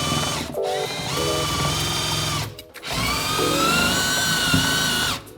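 A Bosch GDX 180 impact driver whirs loudly up close in long sustained runs while bolts are tightened during a bedroom DIY build, with brief pauses between bursts.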